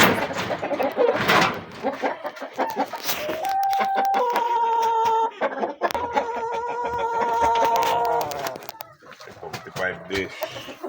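A backyard flock of laying hens and a turkey clucks and calls close by in a busy, overlapping stream, with someone talking over the birds at times.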